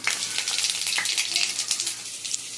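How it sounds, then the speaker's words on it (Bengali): Cumin seeds and dried red chillies sizzle in hot oil in a kadai as a tempering, a dense steady crackle with small pops running throughout, close and alone. "তেলটা গরম হয়ে গেছে, ফোড়নে আমি জিরে আর শুকনো লঙ্কা দিচ্ছি।"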